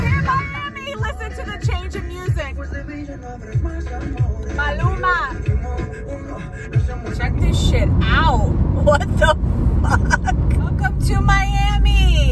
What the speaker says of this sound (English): Traffic is always popping.